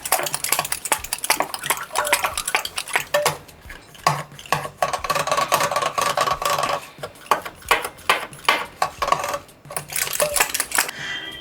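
Rapid clinking and scraping of a utensil stirring liquid in a metal bowl, in quick uneven bursts with brief pauses.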